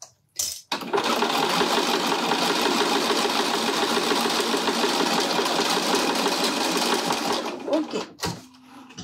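A sewing machine stitches fabric along a long straight seam for a pouch, running in one steady, fast, continuous mechanical whir for several seconds. It stops briefly at the start, then halts near the end with a few clicks.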